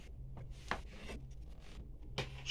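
Pliers grip and twist a faucet aerator end piece loose, making faint close scraping and rubbing sounds with a few small clicks against a quiet background.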